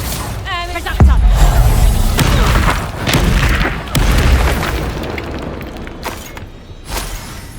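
A Reductor blasting spell detonates in Hogwarts Legacy with a loud, punchy boom, followed by several more thudding impacts and crashing debris over a few seconds of dense combat noise.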